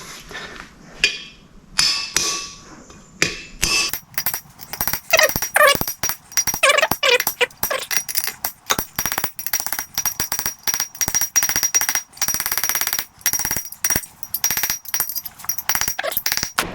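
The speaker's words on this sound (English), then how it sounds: "the hammer rebounds off a lot more than it would. It's not just a dull thud" Repeated hammer blows on metal Massey Ferguson 5455 tractor parts in a breakers yard ring out sharply, first a few scattered strikes, then a fast irregular series of bright clanging hits.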